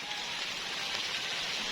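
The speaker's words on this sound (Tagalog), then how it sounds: "Pero ayan, umuulan talaga." Rain falling on a home garden planted with croton and Hawaiian ti plants, a faint, even hiss of light rainfall with no voices and no distinct drops.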